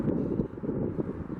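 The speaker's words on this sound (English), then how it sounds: "it is very windy, so I'm going to kind of shout loud" Strong wind buffets the microphone outdoors at a bison release site, a steady low roar with gusty swells and no other clear sounds.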